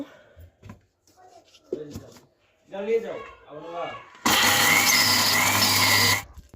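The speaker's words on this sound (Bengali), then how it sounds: "শুকনা মরিচ এখন ব্লেন্ড করে নেব" An electric blender grinds dried red chillies, bursting into a loud, steady whir for about two seconds after a stretch of speech in the kitchen.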